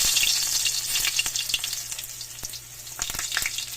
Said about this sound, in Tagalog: Gisa na natin guys yung bawang.